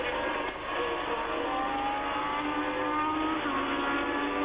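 A Ferrari Formula 1 car racing at the 1979 French Grand Prix, a high-pitched engine wail held at full throttle, steady and continuous with only a brief dip near the start.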